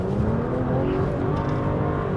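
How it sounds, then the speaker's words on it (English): A manual BMW 1M Coupe engine revving hard while the car slides sideways, a loud, sustained, strained engine note throughout with no voices. "first time sliding it"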